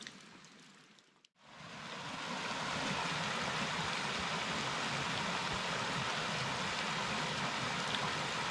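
Rainwater streams steadily down toward a drain and out into a creek, a dense continuous rushing wash that follows a brief near-silent gap, with no talk.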